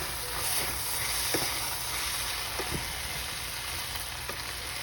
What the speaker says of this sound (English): go ahead and stir it one more time.